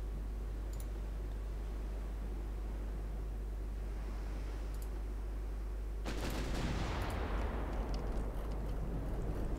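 Warship guns fire in the naval game Ultimate Admiral Dreadnoughts: a low steady rumble of battle is broken by one loud, broad blast whose roar slowly decays. No one speaks.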